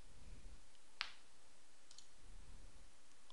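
A single crisp computer mouse click sounds close and clear against quiet room hiss, followed by a much fainter second click.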